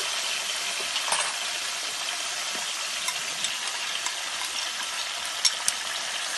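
A mushroom curry with ginger, garlic and ketchup being stirred in a pan, a steady sizzle with a few soft scrapes and light clinks of the utensil.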